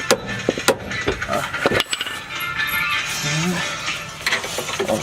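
A ratchet loosening the top bolts of a TEIN coilover on a Mitsubishi Lancer Evolution X, giving irregular clicking pawl bursts and metallic knocks close up, with brief voices in the background.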